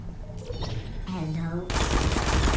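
Gunfire in the Portal video game, rapid bursts of automatic shots loud in the mix, with a person talking over the first part.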